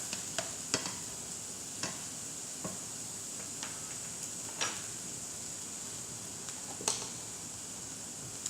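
A garlic clove sweats in a pan with a soft, steady low sizzle, broken now and then by faint scattered ticks and clicks of a utensil against the pan.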